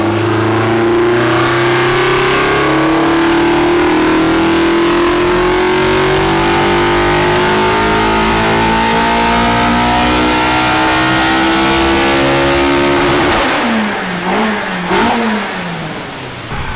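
Fully worked Toyota AE86 with a 4AGE/7AGE engine revving hard on a dyno, one long loud pull with pitch climbing steadily for about thirteen seconds, then abrupt lift-off and a few choppy blips as it winds down.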